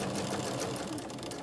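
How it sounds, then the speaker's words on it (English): A sewing machine stitches quilt block pieces in a fast, steady whirring run, close and continuous without talk. "sew everything down one side and then sew everything down the other side"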